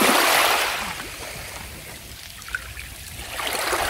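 Calm sea water washes and trickles at a morning beach in Lazarevskoye, Sochi, a soft close murmur of gentle surf that dips and swells again.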